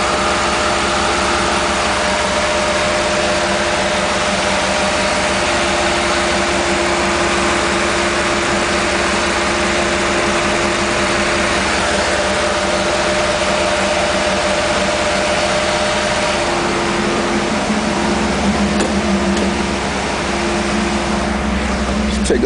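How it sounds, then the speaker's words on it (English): A 1994 Pontiac Trans Am GT convertible, just started after a major overhaul, idles with a loud, steady, even rumble up close, and the tone shifts slightly near the end. "It's idling good."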